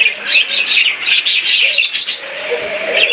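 Pair of lutino budgerigars chirping and chattering continuously up close, bright rapid warbles filling the short stretch with no other sound.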